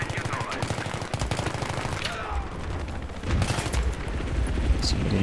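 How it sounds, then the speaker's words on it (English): Enemy gunfire in the Battlefield 3 video game, rapid bursts of automatic shots rattling close by throughout, with a louder flurry near the end and a voice talking over the shooting. "Somebody nearby shooting us."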